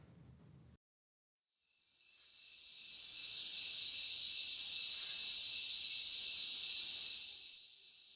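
Live periodical cicadas give a loud, steady high-pitched buzz that swells in over about two seconds, holds strong, then eases slightly near the end, with no talking.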